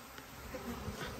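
A soft, continuous buzzing of many honey bees in an open hive drones close by, faint and steady with no talking.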